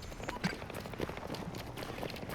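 Footsteps in Battlefield 2042, quiet rapid thuds pattering steadily from above, faint under low background game ambience.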